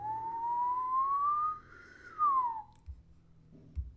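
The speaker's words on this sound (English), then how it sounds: "that whistle was a little bit longer than the buffer, so it will probably have gotten truncated" A single human whistle, played back from a recording buffer and cut short, glides slowly upward and then drops away, followed by a few soft thumps and near silence.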